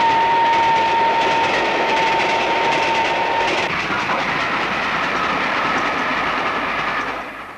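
The Cheltenham Flyer, an express steam train, running with a loud continuous roar and rumble, a steady whistle-like tone for the first few seconds, then fading away toward the end.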